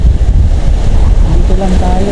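Strong wind and crashing ocean waves at a coastal fishing spot, a loud, constant roar with heavy wind buffeting on the microphone.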